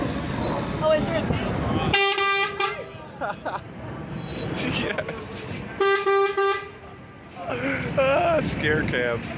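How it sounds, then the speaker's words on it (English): A vehicle horn blares twice, loud and close, over street traffic noise and people talking in Las Vegas. "I didn't honk the horn."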